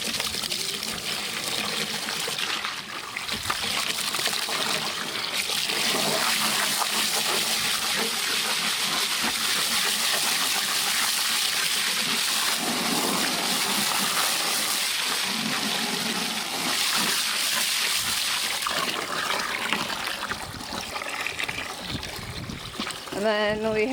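Water pouring and splashing over apples in a container for cleaning, a steady hissing gush lasting most of the stretch, with people talking over it.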